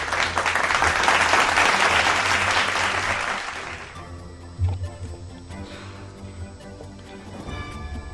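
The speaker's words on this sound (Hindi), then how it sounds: "तालियां आ जाएं आप सभी" Audience applause for the main speaker at an Ambedkar Jayanti event, dense loud clapping for about four seconds that then fades into scattered claps and a quieter room.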